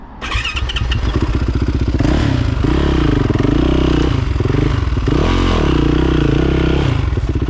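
A 2020 Yamaha YZ450F dirt bike engine runs loud and close at a creek crossing, starting abruptly, then a rough idle punctuated by repeated rising and falling throttle blips, with clattering and scraping mixed in.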